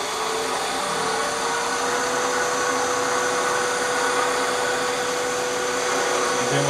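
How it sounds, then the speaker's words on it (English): A wood lathe spins a pen blank for a magnetic pen holder while a skew chisel makes fine cuts, giving a steady, loud whirring hiss with a faint tone that rises slightly as the speed comes up. "switch from the roughing gouge over to a skew. I get better, finer cuts. And let speed come up."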